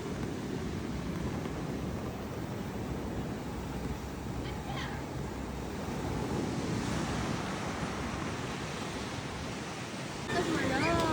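Waves washing onto a beach at a campsite at sunrise, a steady broad surf hiss mixed with wind, with a faint voice and clinks partway through.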